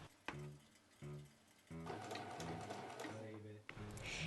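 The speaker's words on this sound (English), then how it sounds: "Sew on using a medium zigzag stitch along the edge" A sewing machine runs a medium zigzag stitch along the edge of a fabric eye piece for a plush monster toy, with a short burst, then another, then a longer steady mechanical whirr of the needle close by.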